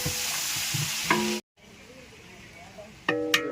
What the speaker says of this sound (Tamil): இப்போ வந்து சின்ன வெங்காயம் நல்லா வதங்கணும்